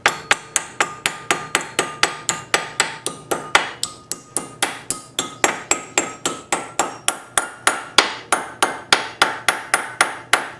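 Rapid, evenly spaced hammer blows ring out on metal being bent over during a 1930 Briggs restoration, roughly three to four sharp strikes per second, close and loud without any talk.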